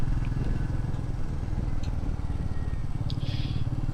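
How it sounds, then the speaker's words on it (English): A motorcycle engine pulls away with a steady low rumbling drone, close and continuous, accompanied by faint clatter and a brief higher whoosh near the end. "Pulling away, you feel that torque straight away. The engine gives you its grunt really low down."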